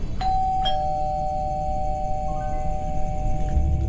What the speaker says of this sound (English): rang the doorbell for the first time in 2 decades